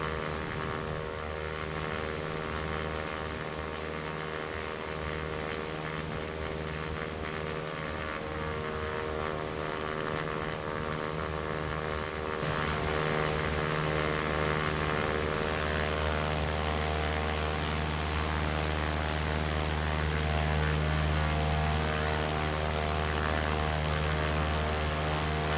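A Cessna 172 Skyhawk piston engine and propeller drone steadily at cruise in X-Plane 11, a loud, constant harmonic hum with no talking.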